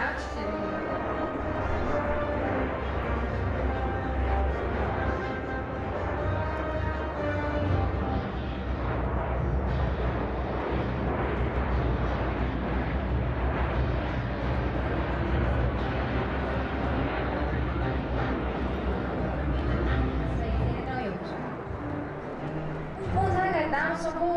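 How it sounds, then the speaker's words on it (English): L-39 jets performing at an airshow give a sustained, broad roar that swells and fades through the whole stretch, with someone narrating over it. "Jets now pull up into a loop to start the more dynamic second half of the show with a vertical brake."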